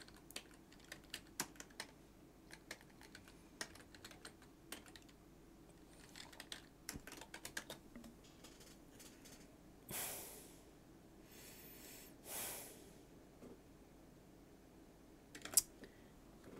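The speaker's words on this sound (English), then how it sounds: "Maybe if I type it in here." Someone typing on a computer keyboard, quick faint clusters of key taps with pauses between, plus a couple of soft breathy whooshes, heard close and quiet without speech.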